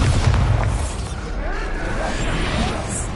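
A Bombarda blasting-spell explosion in Hogwarts Legacy on PS5 makes a dense, loud burst with a deep boom that rolls on as a sustained rumble and debris crash for several seconds.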